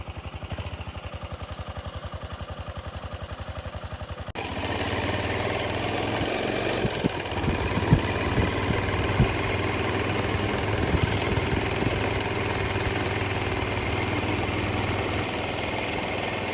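A big bike motorcycle engine idles with a steady, rumbling pulse close by, then grows louder and rougher partway through, with faint knocks and clatter over the drone.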